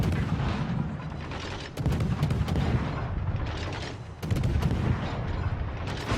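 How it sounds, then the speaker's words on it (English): Naval gunfire in World of Warships, including an enemy Kitakaze destroyer firing, with heavy booming salvos that land about every two and a half seconds over a continuous roar of battle, loud and close. "the only one who seems to be shooting him is an enemy Kitakaze"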